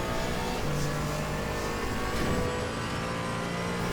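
A race car engine roars and climbs under throttle in the racing game Assetto Corsa Competizione, loud and continuous with a rising whine, no voices over it.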